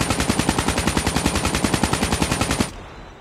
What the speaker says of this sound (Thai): ก็ปืน KN44 นะครับถือว่าเป็นปืนที่ค่อนข้างคุมง่ายมากนะครับ